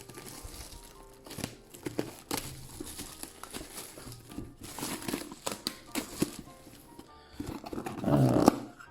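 Pokémon card packs being torn open by hand, wrapper plastic crinkling and crackling in repeated close bursts, growing louder and denser near the end, with no talk over it.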